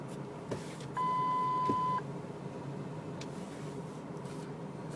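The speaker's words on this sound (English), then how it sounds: "It buzzers because it thinks it's low on fuel with 48 miles to go." A single steady one-second warning beep sounds from a 2008 Ford F350 diesel Lariat cabin for low fuel, clear over a quiet background.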